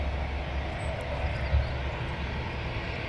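A jet aircraft takes off at Manchester Airport, its engine roar a steady, broad rumble heard from some distance, holding evenly throughout.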